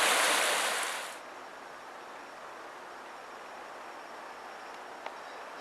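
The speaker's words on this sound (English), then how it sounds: "you can see the water is really pouring down. The stream is a current of water now." A stream swollen after a heavy northeaster rainstorm rushes in a steady broadband roar, faint and constant, with a louder burst of hiss at the start before settling into an even wash.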